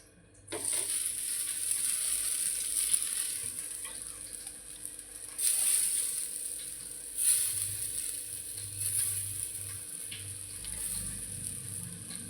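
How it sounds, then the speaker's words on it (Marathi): Kothimbir vadi pieces shallow frying in oil on a hot tava griddle, a steady high-pitched sizzle heard up close and fairly quietly, swelling in a few brief bursts as the oil spits. "आता ह्या आपण तव्यावरती शॅलो फ्राय करायच्या आहेत."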